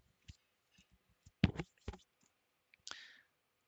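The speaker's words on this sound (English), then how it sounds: "We double click." A computer mouse clicks several times at close range, with sharp, quiet taps spaced irregularly and a quick pair of stronger clicks in the middle, in an otherwise quiet room with no speech.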